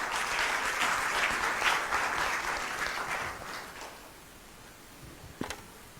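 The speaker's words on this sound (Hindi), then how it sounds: "तालियां बजा के प्रभु को धन्यवाद।" Church congregation applauding at a Hindi-language sermon, a dense burst of many hands clapping that swells for a few seconds then fades, ending with a single sharp knock.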